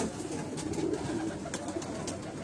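Lal Pari breed pigeons coo softly in a low, rolling murmur, a short faint stretch of gentle cooing with no talk.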